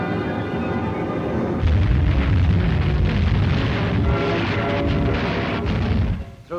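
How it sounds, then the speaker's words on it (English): A big bomb explosion near the Mannheim main station and goods yard in a WWII bombing raid: a sustained, heavy low rumble and roar that swells after a moment and holds steady, loud and close, then cuts off. "And here is a big explosion near the Mannheim main station and goods yard."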